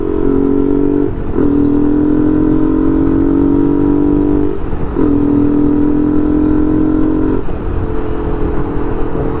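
A new superbike's engine running near and loud, a steady, throbbing drone that dips briefly every couple of seconds before settling back to the same level.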